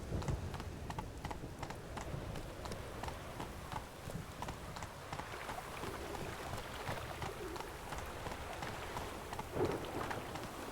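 Geralt's horse Roach in The Witcher 3, hooves clip-clopping in a steady trotting rhythm under heavy rain, with a low rumble of thunder in the background.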